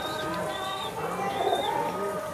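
Soft cooing from a green pigeon, a home-bred female, inside a pigeon loft, low and fairly near amid a busy ambient hum with faint chirps.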